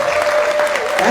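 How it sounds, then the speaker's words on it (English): Crowd at an awards ceremony breaks into loud, sustained applause, dense clapping filling the room, with a steady tone and some voices underneath. "I just want y'all to clap for that."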